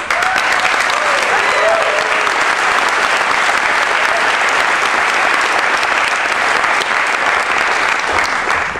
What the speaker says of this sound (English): Let's have a big round of applause for Brian Wecht.